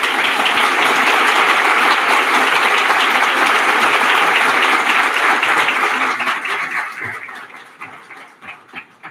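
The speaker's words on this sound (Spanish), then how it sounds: "Lo recibimos con un aplauso, por favor." Loud, dense applause from a large crowd at a cancer research symposium fills the room, then thins out into scattered claps and fades near the end.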